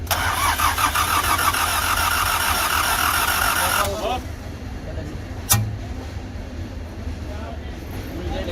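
A motorcycle engine with tappet noise is started and settles into a loud rumbling idle, with a person speaking nearby over the running engine.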